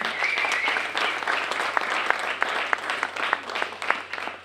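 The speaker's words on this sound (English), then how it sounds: "Can we give them a round of applause?" An audience at a Vermont Restaurant Week event claps in a steady round of applause, dense and sustained with a few sharper individual claps standing out.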